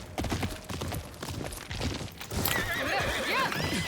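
A horse in the video game Ghost of Yōtei snorts and shuffles with hoof clops, then lets out a loud, wavering whinny that carries to the end.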